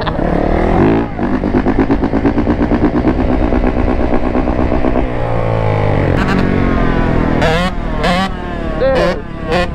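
A two-stroke quad engine revs loud and close, its buzzing pitch rising and falling through repeated throttle blips, with a rider's voice audible over it.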